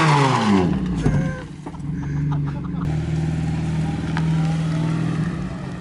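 A car engine revs hard during a burnout at a Fourth of July gathering, a loud sustained roar with a rising pitch that settles into a steady drone, with people talking over it.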